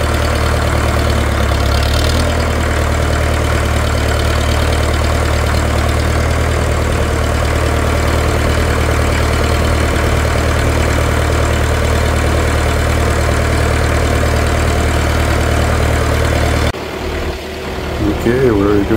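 A machine with a lifting bucket idles, loud and close, as a steady low rumble for most of the stretch, with people talking over it; the engine note changes briefly near the end.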